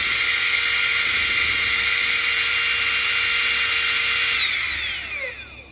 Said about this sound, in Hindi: मोटर को चला कर हम टेस्ट करते हैं कितने एम्पेयर जो है ना ड्रॉ कर रही है